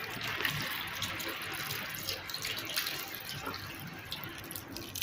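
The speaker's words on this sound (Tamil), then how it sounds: "இப்போ இந்த கரைச்சி வச்சுருக்கிற வெள்ளை தண்ணியை சேர்த்துக்கிறேன்." Dissolved white water pours into a pan, a steady soft splashing and trickle, close and faint, running continuously for several seconds.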